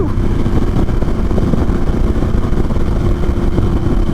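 Harley-Davidson Sportster S motorcycle engine under load while riding, a loud, steady, gritty drone of revs with wind rush, continuous and close throughout.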